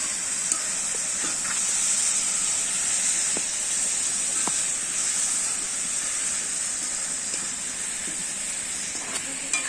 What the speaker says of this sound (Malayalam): ഇനി നമുക്ക് നല്ലോണം കൊണ്ട് ഇളക്കി കൊടുക്കാം.